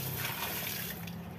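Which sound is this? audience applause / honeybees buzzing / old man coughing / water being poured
water being poured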